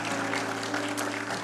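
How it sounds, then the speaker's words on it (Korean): A congregation applauds during a Korean church service, a short, dense burst of clapping that holds steady at close range over a low background hum. "박수로 한번 축복"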